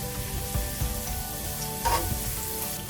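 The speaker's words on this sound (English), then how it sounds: "Next I will add in 1 tablespoon of minced garlic. We'll saute it for a couple of seconds." Minced garlic sizzles in hot olive oil in a pan, a continuous close frying crackle over a low hum, with a brief louder burst near the end.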